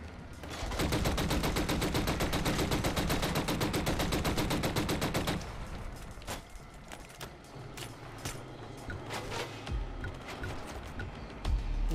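Heavy gunfire from the shooter game Killzone Shadow Fall: a loud, dense burst of rapid automatic fire for several seconds, then scattered single shots and short volleys ringing out against a rumbling backdrop.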